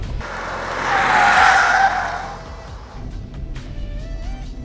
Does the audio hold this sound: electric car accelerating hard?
yes